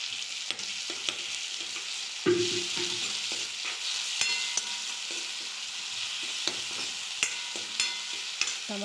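Tomatoes and onions sizzle steadily in a pan while being stirred for a potato and chickpea curry, with scraping utensil strokes and a brief louder stir partway through, no voices.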